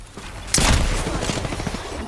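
Gunfire striking the player in Apex Legends: a sudden loud burst of shots lands about half a second in, then a sustained rattle of rapid impacts and firing continues close and dense to the end.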